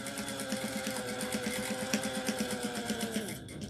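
A sewing machine back-stitches a quarter-inch seam on a crossbody bag, running in a fast, even mechanical rattle of rapid stitches up close before stopping abruptly at the end.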